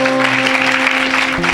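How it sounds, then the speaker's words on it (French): Church congregation applauding together, a dense, steady wash of clapping filling the space with sustained tones beneath it. "Acclamez pour Jésus"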